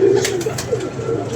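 A group of about seven pigeons sitting together coo in soft, low, throaty warbles that run on continuously at close range, with faint rustling behind them.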